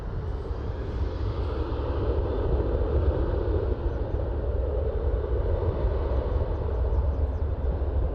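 A Flair Airlines airplane in retro livery passes at Toronto airport, a steady broad engine roar that swells slightly in the middle and holds throughout.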